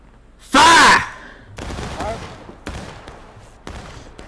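Volley of musket fire from a line of soldiers in a Civil War battle game, a single loud crashing burst followed by scattered distant shots and rumbling echoes across a field.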